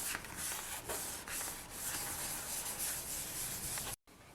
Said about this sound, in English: Okay, so I've sanded this.